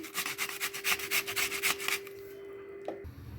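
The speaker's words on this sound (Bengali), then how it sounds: "মূলোগুলোকে ঠিক এইভাবেই পুরোটা ঘষে নিয়েছি" Radish is grated by hand for paratha filling: about a dozen quick, rhythmic rasping strokes up close, then the scraping stops and a light knock follows.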